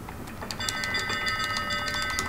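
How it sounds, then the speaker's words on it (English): Ship's bell rung in the pirate game Sea of Thieves, a bright metallic ringing with repeated strikes layered over a sustained shimmering tone, close and clear with no voices. "Ring the bell."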